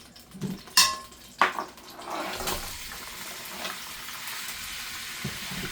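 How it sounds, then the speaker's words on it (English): Hot oil sizzles and crackles steadily in a pan for cooking ribs after a few clanks of cookware, a continuous hiss close by. "you hear my oil already sizzling? That's what I was looking for. That sizzle."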